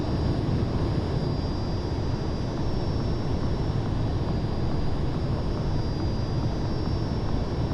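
A flight simulator aircraft engine runs at full throttle in flight, a steady, unbroken droning roar with a faint high whine, constant in loudness throughout with no talk.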